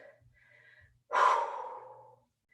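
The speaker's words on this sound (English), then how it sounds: "I'm recovering, deep breathing" Heavy exhalation after plyometric exercise, one loud breathy gust following soft quieter breaths, close and alone.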